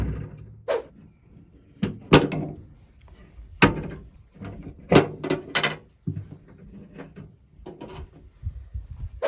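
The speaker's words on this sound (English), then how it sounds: "lift up on this handle, and it pulls those rods in, and it disengages the latch, and it allows you to open the tailgate." A Sierra pickup's tailgate handle is lifted and the latch rods release, giving a series of sharp metallic clunks and rattles spread over several seconds, some close and loud, others fainter, with quiet gaps between.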